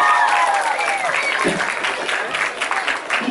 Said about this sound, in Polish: Jeszcze raz brawa dla niej.